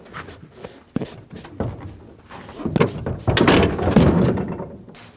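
The tailgate of a 2009-2014 Ford F-150 is lifted and pulled off its hinges, giving a few dull metallic knocks and scrapes. A louder rattling shift near the end makes the loudest part, with no voices.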